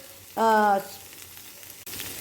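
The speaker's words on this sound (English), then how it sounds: "here you can see now it is sizzling" Sugar sizzles in a hot pan while a filling is cooked, with a sharp burst of frying followed by a quieter simmering hiss and a small click near the end.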